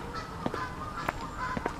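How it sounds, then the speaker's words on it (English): Several geese call with short, separate honks, some nearby and some farther off, over a steady outdoor background near a stretch of water with a boat. Nobody speaks. "Look at all of these geese over here in a minute"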